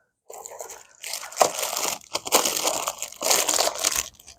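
Noisy plastic packaging of a fishing lure being crinkled and crushed by hand, a close, continuous rustle in several bursts with short pauses between.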